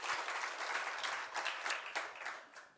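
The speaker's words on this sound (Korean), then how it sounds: "우리 함께 영광의 박수 올려드리겠습니다" A church congregation applauds together in worship, a dense, steady wash of many hands clapping at a moderate distance that fades slightly at the end.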